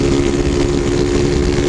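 A vehicle engine revs loudly and continuously while driving up Avenida dos Bandeirantes, a dense, steady roar with a strong low drone that holds at full volume throughout.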